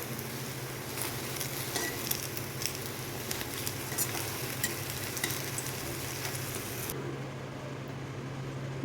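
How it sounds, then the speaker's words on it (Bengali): Onions and eggs frying in a pan for a two-egg dish, a steady close sizzle with stirring scrapes and crackle throughout, alone without talk, easing slightly near the end. "লাল লাল করে আমি ভেজে নিচ্ছি।"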